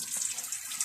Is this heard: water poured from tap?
yes